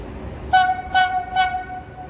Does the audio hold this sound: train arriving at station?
yes